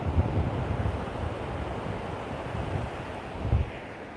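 Ocean surf rolls in at North Myrtle Beach as a continuous low roar with wind buffeting the microphone and a couple of heavier thumps from breaking waves.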